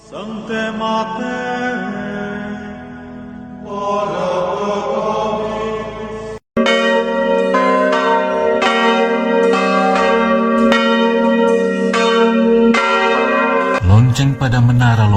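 Church bells of St. John Paul II in Sikka ringing loudly and continuously, rich overlapping tones that shift to a brighter, steadier peal partway through after a brief break.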